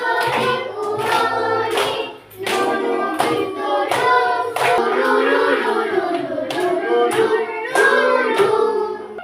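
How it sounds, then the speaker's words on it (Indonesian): Rhythmic hand clapping keeps time beneath group singing, steady claps running throughout. "Sambil tepuk tangan."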